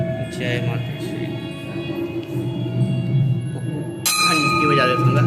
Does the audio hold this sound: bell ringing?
yes